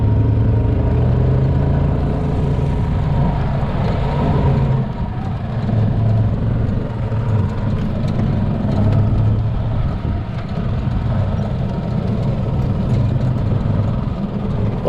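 A junkyard golf cart with a freshly installed clutch drives along, its small engine droning steadily and loudly throughout with slight surges in pitch as it pulls, close up and with no talking.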